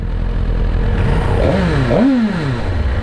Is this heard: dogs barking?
no